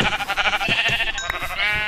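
Sheep bleating in the video game Minecraft, a couple of close, loud, wavering bleats heard alone.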